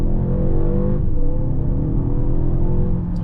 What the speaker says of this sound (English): Let's go ahead and put it back into sport here and do another acceleration